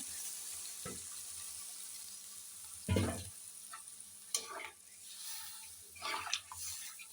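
Water poured into a pan of sautéed fish in masala makes a brief splashing gush amid a quiet background sizzle, followed by a few scattered stirring clatters, close and without speech.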